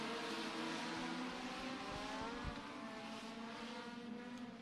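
Race cars lapping at Beckley Motorsports Park in Mount Hope, West Virginia, engines buzzing and droning steadily at a distance, with layered pitches rising and falling as the cars circle the short track.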